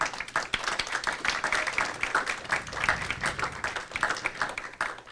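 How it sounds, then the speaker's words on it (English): Continuous applause from a university workshop audience, dense clapping that stays steady and fairly loud throughout with no voices over it. "Let's give them a big round of applause."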